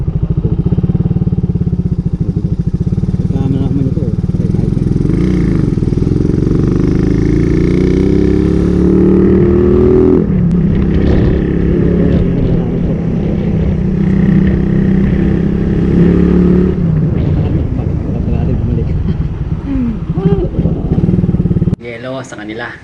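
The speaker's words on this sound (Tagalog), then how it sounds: "Tinakas ko yung motor niya ni tropa." Suzuki Raider 150 motorcycle engine running steadily while riding, a loud, close drone with a shifting pitch and wind rumble, with someone talking throughout.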